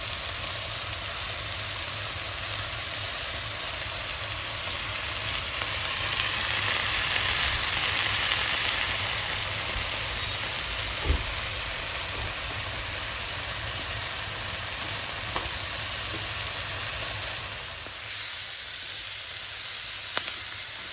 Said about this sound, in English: And in this pot, I have some sausage cooking.